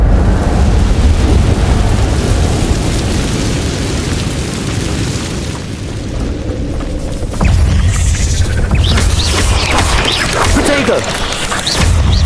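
Incendio fire spell cast in the Hogwarts game, a heavy booming burst of fiery roar that fills the clip, rumbling loudly and then swelling again after a brief dip partway through.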